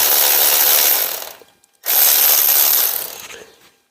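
A ratchet wrench turns on an engine's motor mount in two loud, fast bursts of clicking, separated by a brief pause and fading out at the end.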